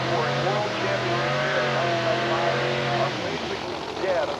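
A supercharged Pro Mod Corvette at an IHRA drag race at Bristol, Tennessee, in 1995 holds a loud, steady engine drone that climbs through gear changes, with an announcer talking over it.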